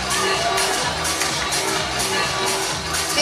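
Lively audience clapping and cheering for award winners at a foundation day ceremony, steady dense applause with rhythmic bursts and some shouts throughout.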